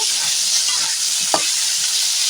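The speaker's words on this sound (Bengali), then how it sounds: "শামুক এইভাবে আমি নেড়ে ঠিক একটু ভাজা ভাজা করে নেব" Snails stir-fried in a pan give a loud, steady sizzle throughout, with one sharp spoon-against-pan knock midway and no voices.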